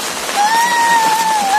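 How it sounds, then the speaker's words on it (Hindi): Heavy monsoon rain makes a steady, dense hiss close by, with a thin, wavering high tone running through it and no voices. "बारिश बहुत लगी है"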